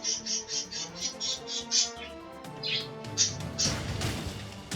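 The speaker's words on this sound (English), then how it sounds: "you can also hear the birds outside" Birds outside chirping in a quick run of short, high tweets, fairly clear and repeated at a steady pace, then a few scattered calls under video game sound effects and music.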